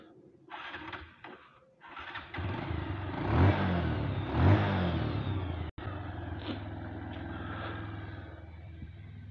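A motorcycle engine rumbles and revs as the bike pulls away on a ride to college, with two rising surges of throttle before settling into a steady running drone, close and fairly loud, with no talking.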